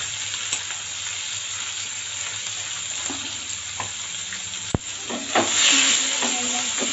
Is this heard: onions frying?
yes